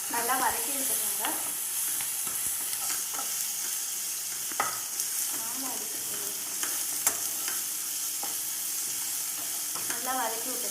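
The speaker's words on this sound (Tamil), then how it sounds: "பூண்டத்தூள் இப்போ வந்து நல்லா வதக்கி விட்டுக்கோங்க" Chili powder and garlic powder sautéing in a pan for vada curry: a steady close sizzle of frying, broken by repeated scraping and clattering stirs.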